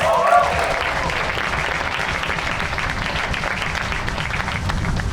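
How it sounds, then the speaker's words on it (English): Audience at a live talk bursting into steady applause, a dense wash of many hands clapping that stays loud for the whole stretch, with some voices mixed in. "Give yourselves a round of applause."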